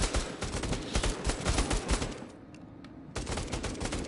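Rapid automatic gunfire in a shooter video game, dense bursts of shots that pause briefly before resuming, loud and close with no talk.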